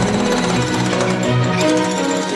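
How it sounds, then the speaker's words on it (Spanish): A pneumatic jackhammer pounds in a steady, dense rattle on house demolition, loud and continuous throughout with no pauses. "Y la demuestra con un martillo neumático o un bulldozer cuando destruye una casa."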